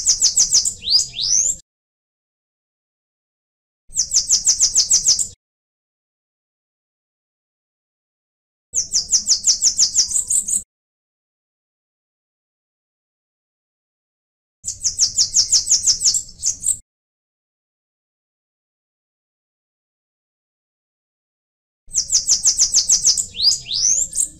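A Brazilian songbird with a grey neck and black-and-white striped head sings loud, strong phrases in five separate bursts, each lasting about a second and a half, divided by stretches of silence.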